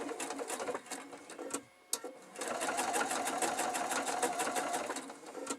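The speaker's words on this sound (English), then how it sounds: "And then we start sewing very close to the" A sewing machine stitching quilt fabric for a large Cathedral Windows quilt, a steady fast mechanical whir and tapping needle rhythm, briefly pausing and restarting, close and fairly loud.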